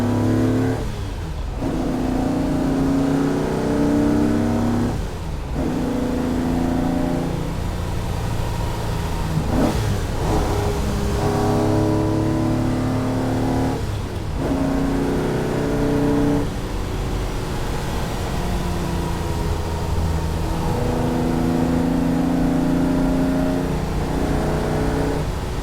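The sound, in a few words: car accelerating in second gear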